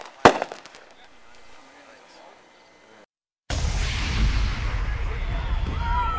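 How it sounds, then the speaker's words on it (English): Amateur fireworks go off with a loud sharp bang followed by crackling that fades, then after a brief gap a dense, continuous roar of bursts and rumble fills the rest. "How about them fireworks?"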